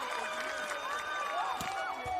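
At a bronze-medal beach volleyball match in Kusadasi, a large crowd cheers, whistles and claps steadily in the distance, with excited voices and a few sharp whoops rising over the continuous roar.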